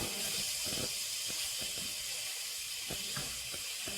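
Onions frying in a pot for beef stew give a steady, close hiss and sizzle with faint scattered crackles throughout, with no talking.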